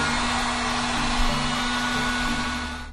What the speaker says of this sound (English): I'm going to use the heat gun just to speed up the process